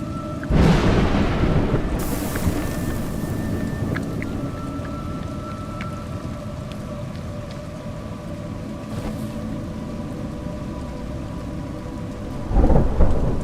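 Steady rain pours down with deep rumbling thunder in the video game A Juggler's Tale, a loud crash near the start and another near the end.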